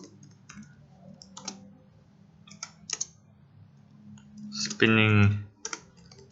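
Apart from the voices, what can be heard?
computer keyboard typing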